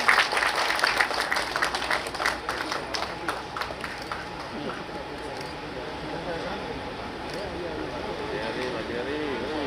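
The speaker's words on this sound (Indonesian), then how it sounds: "Mari kita berikan tepuk tangan yang meriah Bapak Ibu hadirin sekalian." An audience applauds at a foundation stone laying ceremony for provincial government offices in West Papua. The clapping is loud at the start and then fades to a softer patter under a steady background murmur.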